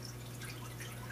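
An air pump pushes carbon dioxide bubbles from a DIY generator through tubing into an aquarium tank, giving a faint steady hum mixed with soft, continuous bubbling and dripping.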